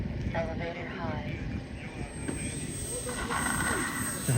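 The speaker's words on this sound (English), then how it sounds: "I'm going to do another touch and go here" A Kavan Bristell 1600mm radio-controlled model plane does a touch-and-go at an empty field, giving a steady, airy whine and rush of wind throughout. Someone talks over the sound.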